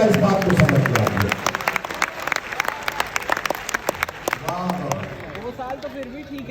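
A mushaira audience bursts into loud applause, a dense wash of clapping that thins into scattered, uneven claps and swells again briefly, with crowd murmur and a voice talking beneath it.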